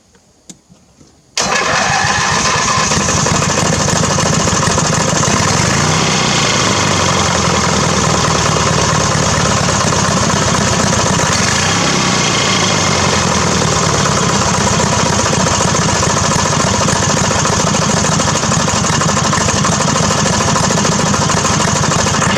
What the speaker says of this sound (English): Maybe I'll try to start it again for you.